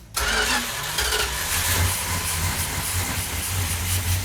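A Dodge Super Bee V8 fitted in a GTX cranks briefly, catches at once and settles into a rough, loud, steady run close by, with no talking.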